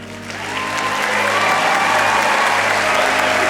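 Loud applause for graduates at a university commencement ceremony, rising quickly and holding steady, with a faint sustained musical tone beneath the clapping.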